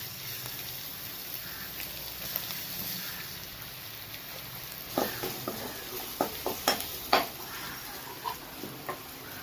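Finely chopped ginger and garlic fry in hot oil, a steady close sizzle with a constant hiss, and a few light scrapes and taps of a spoon stirring partway through.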